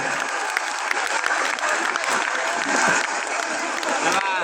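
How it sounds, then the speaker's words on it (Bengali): Dense, loud applause from a large crowd at a company picnic, continuous and even throughout with a faint murmur of voices beneath. "আরো জোরে হাত তালি, জোরে হাতে তালি হবে, জোরে"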